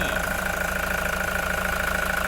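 2014 Toyota Commuter van with a 3.0 D4D diesel engine idles close by, a steady, even clatter with a constant low hum and no talk.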